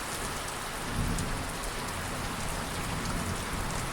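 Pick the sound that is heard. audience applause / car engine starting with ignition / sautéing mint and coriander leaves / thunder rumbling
thunder rumbling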